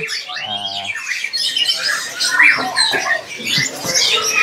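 Harsh, scratchy Bali myna squawks and chatter, close and busy, with a brief rising whistle near the start and sharp calls repeating throughout.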